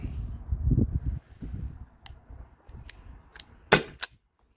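A Byrna launcher is fired over a chronograph: one sharp, loud pop rises above a few lighter clicks and low handling rumble, and a smaller snap follows right after.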